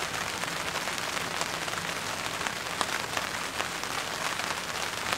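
Steady rain drums on a tent tarp at a backyard camp, a dense, even patter that runs throughout with no voices.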